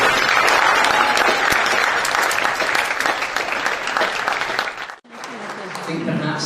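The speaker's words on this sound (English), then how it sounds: "after a final round of applause" A graduation audience at a class of 2021 grad walk applauds loudly and steadily, a dense sustained roar of many hands that cuts off abruptly near the end before quieter room sound with murmuring voices returns.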